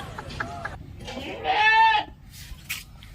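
A goat gives one loud, close, wavering bleat lasting about half a second, with softer vocal sounds and background noise around it.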